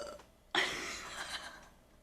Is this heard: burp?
yes